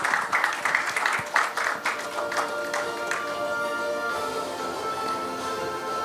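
Applause at an awards conference ceremony, scattered clapping that is fairly strong at first, then fades beneath sustained background music.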